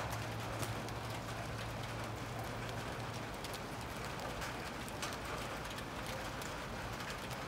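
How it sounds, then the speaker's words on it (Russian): Rain is starting to fall in a winter garden, giving a soft, faint patter of scattered drops over a low background hum, steady and without voices. "Начинает идти дождик"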